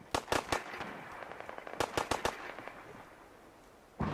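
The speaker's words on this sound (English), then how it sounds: "Oh, they're shooting at me" Gunfire in the video game Fallout 4: sharp bursts of shots in quick clusters, a few rapid cracks, a pause, then another cluster and a final shot, moderately loud.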